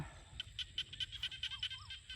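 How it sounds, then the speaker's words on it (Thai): A bird calls at dusk near rice paddies with a rapid series of sharp, repeated high chirps in a steady rhythm, faint and somewhat distant over low background rumble, with no talking. "เสียงนกกระห้องค่ะ"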